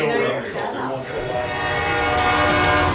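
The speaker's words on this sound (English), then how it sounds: "I told the train was coming by." A train rumbles past with a sustained horn blaring over it, steady and loud throughout.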